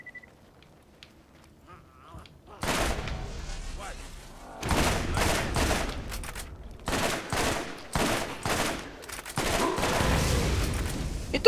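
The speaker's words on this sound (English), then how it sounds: "I'm gonna keep shooting this thing until I'm out" Bursts of video-game gunfire from Borderlands, rapid fusillades and machine-gun volleys repeating in loud clusters with brief gaps, after a quiet opening couple of seconds.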